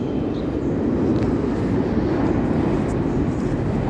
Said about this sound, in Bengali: আপনারা অবশ্যই সাউন্ড পাইতেছেন মেট্রোর